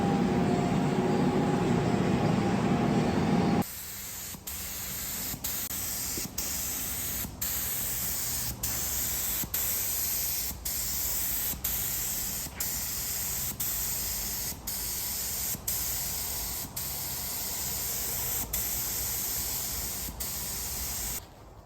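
Spray gun painting primed car parts black, a steady loud hiss broken by short regular pauses at roughly one-second intervals, following a brief burst of louder, brighter spray at the start.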